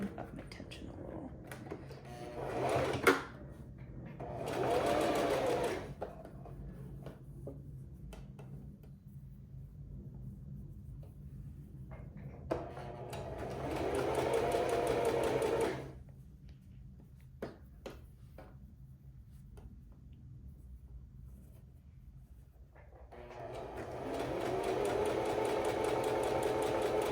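A sewing machine stitches summer dress fabric in several bursts of steady rapid whirring, close and moderately loud, separated by quiet pauses.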